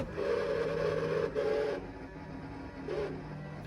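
A windshield washer sprayer on a Ford F-100 truck that sat unused for over twenty years, a steady strained pump whine with two short pulses, struggling and weak, close by with no talking.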